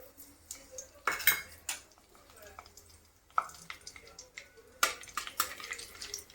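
Whole garam masala is stirred in a little hot oil in a kadai, with sharp metal spoon scrapes and clinks against the pan in uneven bursts, faint hiss between and some talk.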